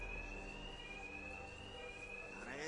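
A steady electronic alarm whines at one sustained pitch in Batman: Arkham Knight, loud and continuous over a low background rumble, with a faint rising sweep near the end.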